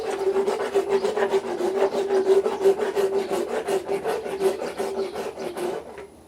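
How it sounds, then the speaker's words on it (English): A dental rasp filing a racehorse's teeth, loud close rhythmic scraping in fast regular strokes, about a dozen per second-long burst, continuing steadily for six seconds without voices. "just took all the extra edges off. And this orange rasp is the upper 11 rasp."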